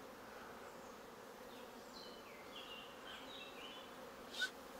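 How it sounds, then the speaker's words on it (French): Honeybees buzz around beehives outdoors, a steady soft droning hum throughout with faint passing tones, and one brief closer swell near the end. "on entend limite bourdonner là-haut"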